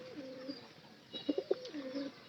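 Pigeons recovering from a swollen-eye illness coo in low, rolling calls, two drawn-out coos framing a few sharper wing or perch sounds, fairly faint against quiet room noise.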